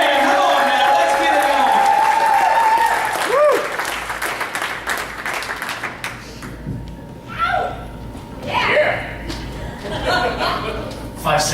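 A comedy club crowd applauds and cheers as a comedian is introduced at a tribute show, loud clapping at first fading into scattered applause and laughter while a host talks over it.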